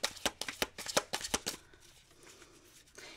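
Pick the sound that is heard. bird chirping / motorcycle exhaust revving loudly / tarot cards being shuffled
tarot cards being shuffled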